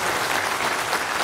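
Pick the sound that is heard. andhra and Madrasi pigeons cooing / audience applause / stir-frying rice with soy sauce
audience applause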